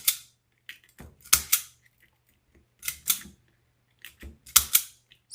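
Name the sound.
cutting pieces off while making a flower wreath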